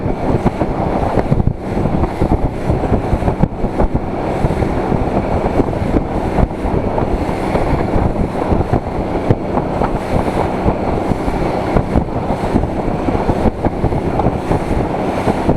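Inflatable boat with a fiber floor and a 60hp Suzuki outboard pounding over large sea waves, a steady loud engine drone with thumping hull slaps and heavy wind buffeting throughout.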